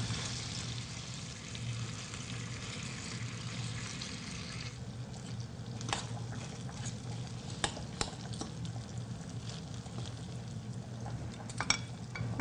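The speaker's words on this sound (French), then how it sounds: "on va s'aider d'une petite fourchette et on va effilocher la viande au fur et à mesure" A fork works through duck meat in a cooking pan, shredding it during cooking with soft scraping and stirring under a steady low sizzle, plus a few sharper clicks of metal on the pan.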